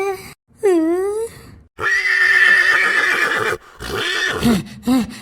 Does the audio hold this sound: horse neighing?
yes